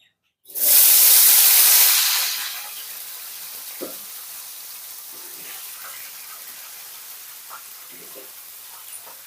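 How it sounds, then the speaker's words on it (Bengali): Cut okra dropped into hot oil to fry lightly for bhindi masala, a loud burst of sizzling hiss at first that settles into a quieter steady frying crackle with a few faint clinks. "এরপর আমরা এই তেলের ভিতরেই কেটে রাখা ভেন্ডিটাকে ভেজে নেব হালকা করে"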